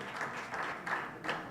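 Applause at a formal ceremony welcoming the Minister of Education, several bursts of clapping rising and falling in quick succession, moderately loud from a crowd in a hall.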